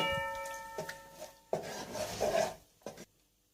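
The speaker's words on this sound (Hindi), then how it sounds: "अब आपने आधा कप दूध लेना है और थोड़ा थोड़ा दूध शामिल करते जाना है और इसको मिक्स करते जाना है" Roasted flour being mixed with milk in a pan over a low flame, soft rubbing and scraping strokes of a utensil against the pan bottom in uneven bursts, close and fairly quiet with short pauses between strokes.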